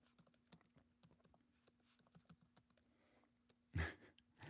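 Typing on a computer keyboard, a run of light, irregular key clicks close by, ending in a louder burst of heavier keystrokes.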